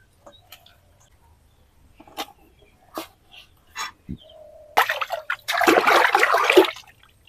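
Rupchanda fish (pomfret) rinsed by hand in water for a curry; a few sharp knocks and clatters come first, then about two seconds of close, loud splashing and running water.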